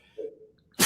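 A single short sneeze from a man: a brief voiced catch, then a sharp loud burst of breath at the very end of the moment, close to the microphone in an otherwise quiet room.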